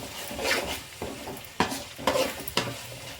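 Curry masala being fried and stirred in a pan for egg boti curry, with a soft continuous sizzle broken by several sharp scraping stirs of a spoon against the pan, close and moderately loud.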